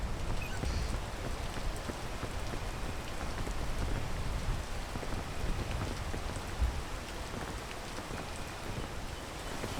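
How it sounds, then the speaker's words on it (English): Steady rain falls and patters on surfaces outdoors, a close, even wash of drops with scattered louder taps and no voices. "Of course it's raining."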